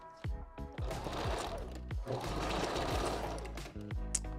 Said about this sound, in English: I'm gonna go in, do a quick little backstitch in here as well.